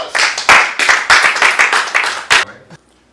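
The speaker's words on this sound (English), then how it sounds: "Why don't we all give a round of applause?" A short burst of loud, close clapping from a small group, uneven and choppy, that thins out and stops after a few seconds.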